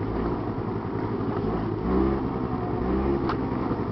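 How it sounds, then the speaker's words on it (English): A car engine idles and revs a couple of times, a steady low rumble rising briefly into a louder surge, heard close with no talking. "rev the engine a couple times, and he seems to know the motor by now"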